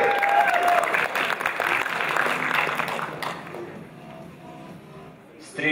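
KVN comedy show audience applauding a team taking the stage, dense hall-wide clapping with crowd noise for about three seconds before dying away into murmurs and shuffling.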